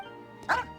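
A single short, sharp dog bark from the video game Genshin Impact rings out close and loud near the end of a quiet moment, with no talk over it.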